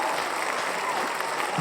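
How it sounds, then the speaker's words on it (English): Applause fills the space, a continuous, even wash of clapping and crowd noise, brief and steady at moderate loudness. "Cue the applause."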